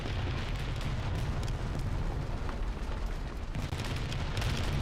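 An ammo box blows up in War Thunder, producing a loud, continuous roaring blast of rumbling explosions with crackling bursts, close and without voices.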